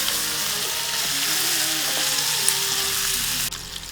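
Blanched pork for adobo hits a hot pan, giving loud, dense frying and sizzling, with faint stirring scrapes near the end.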